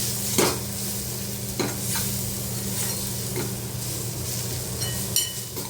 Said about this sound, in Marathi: आता हे मसाले पण आपण कांद्यासोबत व्यवस्थित परतून घ्यायचे आहेत तेलामध्ये